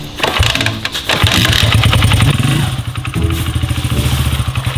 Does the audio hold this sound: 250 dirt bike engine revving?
yes